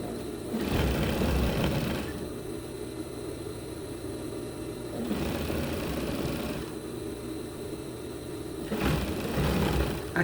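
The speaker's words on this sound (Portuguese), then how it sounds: "o overlock é um maquinário que a gente tem que ter um pouco mais de atenção" An overlock sewing machine stitching the edge of a knit blouse runs in steady bursts, with a continuous mechanical whir that rises and falls between passes and has short pauses.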